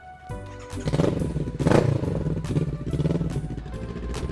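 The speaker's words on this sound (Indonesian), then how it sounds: "Motornya tak bisa hidup." An old motorcycle engine struggling to start, rough sputtering and clattering bursts that rise and fall without settling into a steady idle, loud and close, with no voices.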